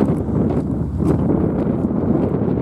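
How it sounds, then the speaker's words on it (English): Strong wind buffets the microphone in loud, low, rumbling gusts that roll on without a break, beside a 1997 Buick Century derby car with its trunk open. "Pretty windy today. Very windy."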